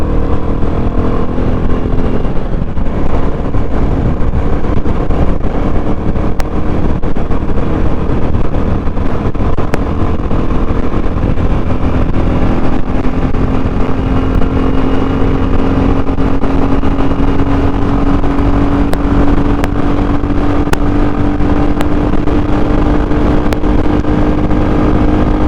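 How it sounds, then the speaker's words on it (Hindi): A Royal Enfield Standard 350 motorcycle engine roars steadily at full throttle in a top-speed run, its pitch climbing slowly as it accelerates hard, loud and close with constant wind noise. "अब हम टेस्ट करते हैं इस बाइक की टॉप स्पीड।"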